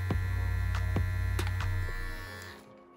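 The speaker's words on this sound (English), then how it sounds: "I'm going to show if this trimmer is running accurately according to the display on this trimmer." A Renpho electric hair trimmer runs with a close, steady motor hum and buzz, broken by a few faint clicks, for about two and a half seconds before winding down into quiet.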